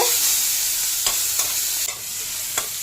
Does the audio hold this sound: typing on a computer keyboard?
no